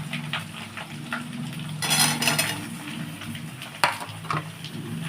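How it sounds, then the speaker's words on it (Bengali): Potatoes frying in a pan after ginger, stirred with a utensil, for a white Kashmiri dum aloo: a soft, steady sizzle with scraping and clinks of metal on the pan, including a louder stirring burst and one sharp knock. "আলুটা দিয়ে এবার একটুখানি ভাজবো 2-3 মিনিট নেড়ে"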